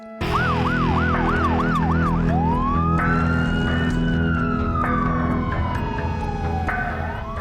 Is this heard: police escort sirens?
yes